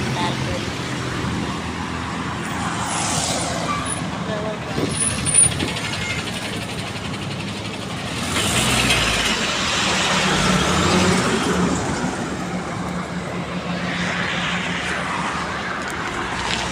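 Road traffic on a highway near Bhigwan, with many vehicles passing: a continuous roar of engines and tyres, swelling as trucks and cars go by, with a hiss like an air brake and some wind, and people talking over it.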